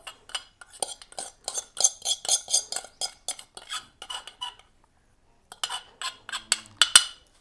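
A tea strainer scrapes and clinks against a vessel while herbal hair oil is strained through it. Quick metallic taps and scratches come in bursts, pause briefly, then resume close up.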